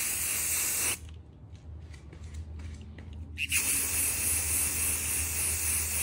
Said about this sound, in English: Just spray paint.